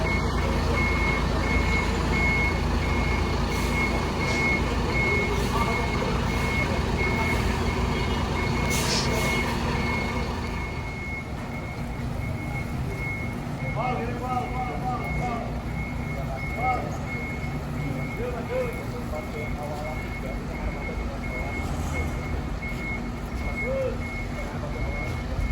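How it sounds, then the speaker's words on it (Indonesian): A Rosalia Indah intercity bus reverses at a terminal, with repeated reversing beeps pulsing over a loud idling diesel engine, air hiss and general station bustle; people talk nearby. "armada Rosalia Indah via Wonosobo udah mulai mundur"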